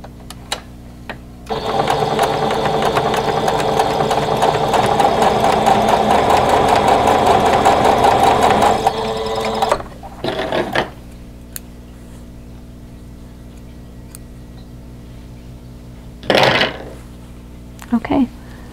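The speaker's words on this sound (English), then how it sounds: "Nest these 2 seams together right here, and then sew that seam." A sewing machine stitches a quilt block seam with nested seams, a steady fast mechanical whir running for several seconds, then stopping, followed by a few brief short bursts of stitching.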